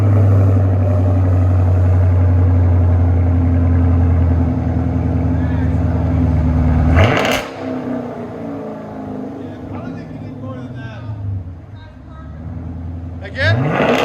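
A 2018 Chevy Camaro SS with a 6.2L V8 and dual exhaust fitted with Dynomax Race Bullets, loud and close, holding a steady deep drone, then a sharp rev burst, a burbling idle, and another rev at the end.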